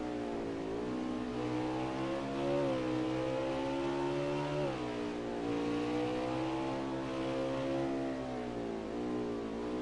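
A race car engine at Mid-Ohio, heard from the in-car camera, drones loud and steady. Its revs swell and dip several times through the run as the car accelerates and lifts, with no talking.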